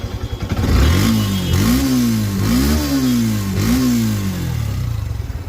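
Four sharp throttle blips in a row from a 2022 Yamaha FZS version 2 motorcycle at a bike showroom, each rev climbing in pitch then falling away, loud and close with a rough idle between.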